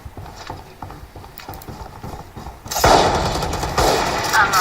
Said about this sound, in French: Je recharge.